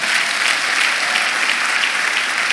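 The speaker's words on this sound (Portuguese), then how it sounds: "isso merece palmas" Audience applause at a Portuguese-language talk on spirituality by Rosário Neto, steady dense clapping from a large crowd that fills the whole moment, loud and continuous with no voice over it.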